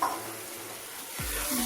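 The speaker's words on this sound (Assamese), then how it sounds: "এনেকৈ আৰু অকণমান সময় ভাজি লওঁ" Grated carrot halwa with cashews fries in a pan, a close, steady sizzle marked by stirring scrapes and a low scraping sweep near the end.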